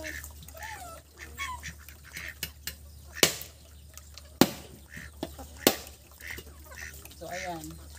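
Chickens crowd around near a person grating coconut, giving scattered clucks and squawks with a few sharp knocks and scuffles, while a voice talks intermittently.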